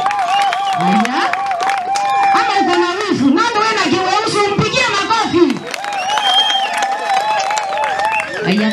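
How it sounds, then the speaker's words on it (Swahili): A crowd at a pre-wedding and dowry payment celebration claps and cheers for the groom, with whoops and voices mixed in, while a voice speaks over the applause and music plays underneath. "Mpigie makofi mazuri"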